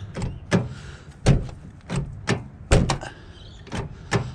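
A car's front doors are slammed shut again and again, roughly eight sharp, loud thuds in uneven succession over a low background rumble.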